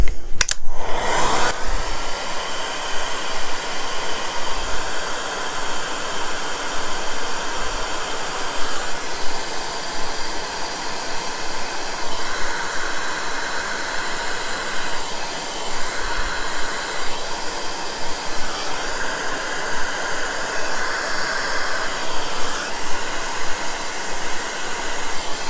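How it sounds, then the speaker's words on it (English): Hair dryer blowing hot air steadily over a Tamiya HKS Nissan Skyline GT-R Gr.A RC car body, a loud continuous whooshing hum that holds for the whole stretch after a brief clatter at the start. "we'll give that a bit of heat. Just get it drying nicely."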